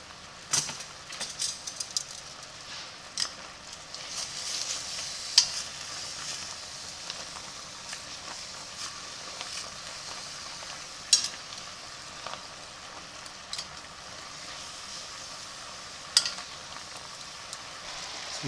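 Sausage, onions, bell peppers and mushrooms sauté in a pot, giving a steady soft sizzle with scattered crackles and pops, fairly quiet and continuous with no voices.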